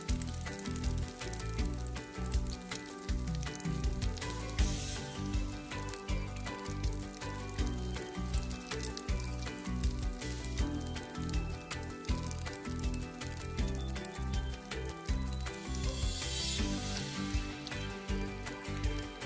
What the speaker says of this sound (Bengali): ভালো করে গরম হয়ে গেলে এখন ডিমটা দিয়ে নিব।